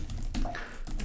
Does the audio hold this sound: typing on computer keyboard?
yes